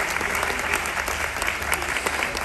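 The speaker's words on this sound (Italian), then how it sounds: "grazie mille per gli applausi" Applause from a cruise ship audience at a ventriloquist show, a brief burst of steady clapping from a crowd, fairly close and even in level.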